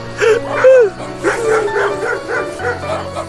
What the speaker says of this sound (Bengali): খামারের কুকুর ঘেউ ঘেউ করে ছুটে এলো।